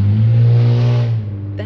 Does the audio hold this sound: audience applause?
no